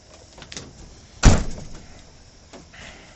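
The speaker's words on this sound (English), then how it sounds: "you try to shut the door" A door is shut with one sharp, loud slam, set among quieter thumps and shuffling movement with no talking.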